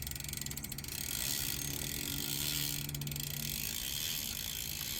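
A rapid, continuous ratcheting buzz from a freewheeling Total Tech 2 BMX cassette hub's pawls, fine clicks blurring together at a steady, fairly close level.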